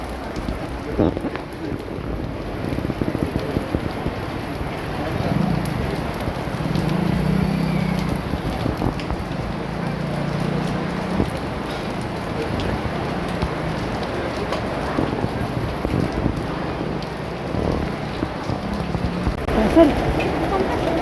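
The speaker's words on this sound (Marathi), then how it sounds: "पाऊस खूप पडत आहे" Heavy rain pours outside a small Hanuman temple during a Hanuman Jayanti visit, a dense continuous hiss of drops on surfaces with occasional low rumbles, while people talk over it.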